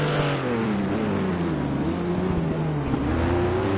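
Race cars at Rouen during an STC Black Cup 2009 round, engines droning steadily with shifting pitch as they brake hard into the hairpin, loud and continuous with overlapping motors and no talk.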